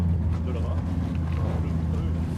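A boat motor runs at a steady low drone on a river in French Guiana, with wind buffeting the microphone and a person talking over it.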